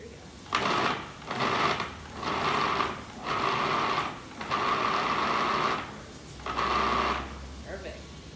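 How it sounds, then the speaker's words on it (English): A food processor pulses mushrooms in a series of six short whirring bursts separated by brief pauses, close and fairly loud. "throw these mushrooms in there and pulse them until they are super minced up"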